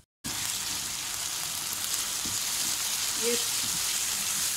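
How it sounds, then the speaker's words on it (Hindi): Okra (bhindi) fries over medium heat in a pan for a village-style masala bhindi lunch, a loud, steady close sizzle throughout, with a brief spoken word over it. "ताकि ये थोड़ी सी मीडियम आँच पे ये फ्राई भी हो जाएं"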